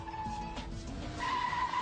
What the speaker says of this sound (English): Turn hard into a bend to get the back out, then catch the slide.